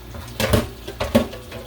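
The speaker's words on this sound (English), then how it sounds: "I'm actually going to put a little bit more water in there" Water is poured into a canning pot holding jars of whole figs, two short splashing bursts with a brief pause between them, close and fairly loud, nothing else heard.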